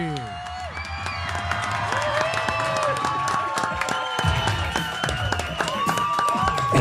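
A studio audience cheers, whoops and applauds for a singer's entrance, with a dense, sustained wash of clapping and shouts mixed with excited voices and some music.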